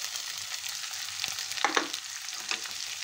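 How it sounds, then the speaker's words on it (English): Onions sizzle steadily in a pan with ginger garlic paste and cumin seeds, with a few soft stirring scrapes over the quiet, constant frying hiss. "we will stir and cook our onions till they become translucent in color."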